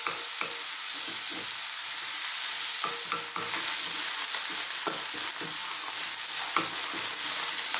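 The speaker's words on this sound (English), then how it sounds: "I'm simply going to cook this on a kind of fairly lively heat" A vegan masala curry base fries over fairly lively heat, with a continuous bright sizzle and repeated soft scrapes and taps of a spoon stirring the pan, with no voices.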